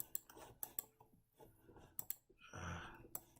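Computer keyboard keys click in quick irregular bursts, sharp close taps separated by short pauses, with a brief softer rustle near the end.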